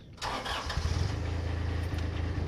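A diesel engine cranks after its glow plugs preheat and catches. A brief starter whir quickly settles into a steady, throbbing idle, heard close and clear with no talking.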